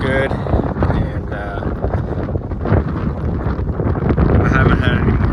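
Strong wind beside a truck in Nebraska, loudly buffeting the microphone in a constant rough roar that gusts stronger near the end, with a voice briefly audible.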